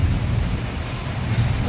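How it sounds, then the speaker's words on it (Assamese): Rain falling during rainy weather, a steady, dense hiss of drops with a low rumbling undertone, continuous and fairly loud, with no voices. "এয়া বৰষুণ দি আছে চাওক"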